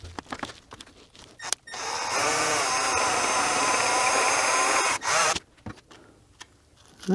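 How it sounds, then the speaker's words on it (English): A power drill bores through an aluminum transmission housing on a Torqueflite 904 during a shift kit install, a steady loud whine lasting about three seconds between quieter handling noises and a brief pause. "the housing is aluminum, so drilling through it is really easy"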